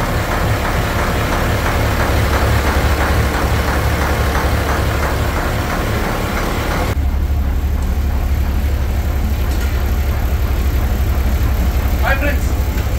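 A houseboat engine in Alleppey, Kerala, runs beside the kitchen with a steady low rumble and idling drone that stays constant throughout, while people talk over it.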